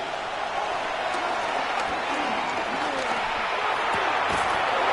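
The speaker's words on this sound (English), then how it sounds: "The crowd making their presence felt." A football stadium crowd at a Jets game on third down keeps up a steady, loud roar with scattered shouts throughout.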